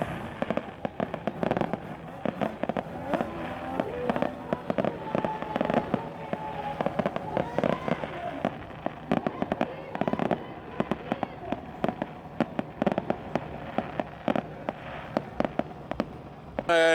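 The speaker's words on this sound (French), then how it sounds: "On vous laisse sur le feu d'artifice" Fireworks burst and crackle over and over for a long stretch at a snowmobile event in Sainte-Clotilde-de-Châteauguay, with dense popping and booming, and a crowd murmuring faintly underneath.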